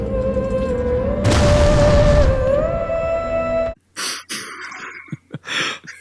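A deep cinematic explosion boom from a war movie scene about the U.S.S. Indianapolis, loud and rumbling for a couple of seconds over a sustained tone, then cutting to sharp gasps and breaths.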